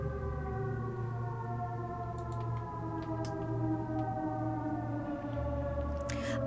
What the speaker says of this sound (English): I hate the siren.